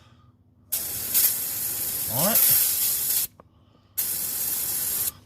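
Two long hissing bursts from a spray can onto an RB30-engined GQ Nissan Patrol, separated by a short pause, with a brief spoken word in between.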